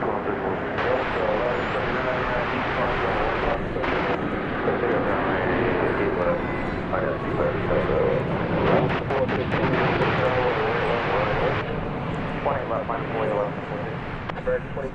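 Airplane at DFW Airport, a steady loud jet engine roar that fills the whole stretch, with radio chatter between pilots and tower running underneath.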